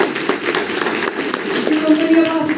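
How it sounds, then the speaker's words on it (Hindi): An audience at a motivational business meeting breaks into a burst of clapping, a quick patter of hand claps mixed with a speaking voice. "जोरदार ताली उनके लिए।"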